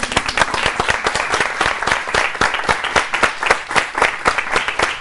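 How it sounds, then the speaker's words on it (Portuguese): A lively audience applauds at a volunteer program event on a university stage, producing steady, dense clapping that carries on without pause and without speech. "essa plateia sensacional que merece também os nossos aplausos"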